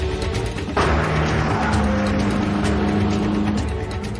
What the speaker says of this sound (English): has got a throttle that's jammed wide open and I can't hold it on the brakes